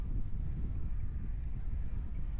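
Strong wind in Turkey buffets the microphone as a walker pushes against it, a steady low roar and rumble throughout with no break.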